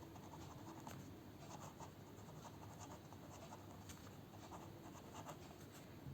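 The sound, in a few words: writing by hand while noting prime factors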